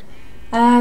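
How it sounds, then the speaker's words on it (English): A short, nasal bleat bursts in after a stretch of quiet background, loud and close, like a sheep's cry in Minecraft: Story Mode. "Oh, the sheep!"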